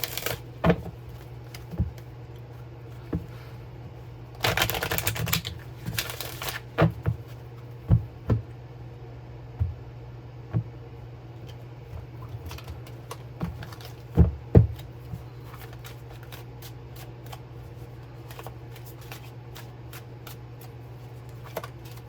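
Oracle cards being shuffled by hand, a string of soft riffling bursts and scattered sharp card snaps up close, with one dense flurry of shuffling partway through and a steady low hum beneath.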